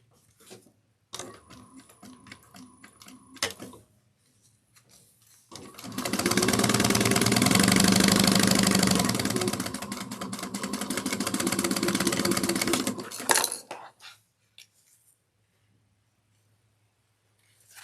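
A sewing machine stitches a lining pocket seam in one steady whirring run of about seven seconds, close and even, framed by brief fabric handling and clicks before and after.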